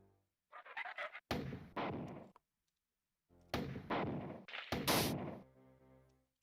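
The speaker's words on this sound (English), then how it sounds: "May as well spam grenades, because we got grenades to spare." Several grenade blasts from the 1994 video game Marathon, loud and close, each a sharp burst with a rumbling tail, arriving in two groups separated by a short silence.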